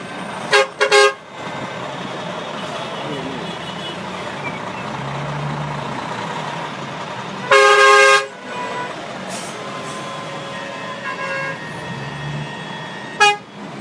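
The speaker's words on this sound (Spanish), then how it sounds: "Miren el tráfico de Lima." Car horns honk in Lima street traffic: a couple of short toots, then a louder sustained blast and a final beep over a steady engine rumble, with no talk.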